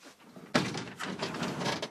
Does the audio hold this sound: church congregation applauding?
no